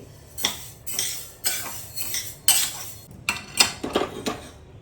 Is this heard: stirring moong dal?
yes